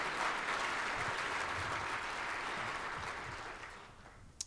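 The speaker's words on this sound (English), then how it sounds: "Let's give them a round of applause" Audience applause at an education panel discussion, a dense continuous clapping from a full room that holds steady and then begins to thin out at the end.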